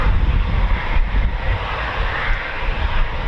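A Typhoon FGR4 fighter jet takes off at RAF Coningsby as a loud, steady broadband engine roar that holds for the whole stretch, with gusty wind buffeting the microphone.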